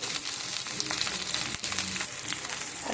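Chopped tomatoes and coriander powder frying in a hot pan give a steady, close, dense sizzle with crackling throughout, and one brief stir-like dip near the middle.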